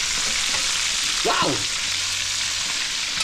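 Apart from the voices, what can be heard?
food frying in a pan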